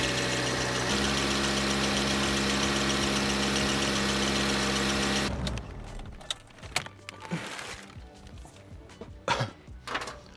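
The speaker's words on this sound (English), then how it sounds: "I might have to turn the car on for this." A car engine idles steadily and loudly for about five seconds, then cuts off, leaving scattered clunks and handling noises in a garage.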